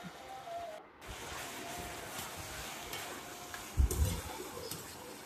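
Green chillies, ginger-garlic paste and coriander fry in a pan with a soft continuous sizzle, punctuated by a brief louder clatter of stirring against the pan near the middle, with no talking.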